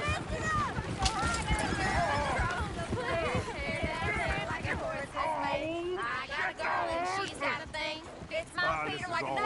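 A horse runs in a video game, its quick hoofbeats thudding continuously under lively talking voices.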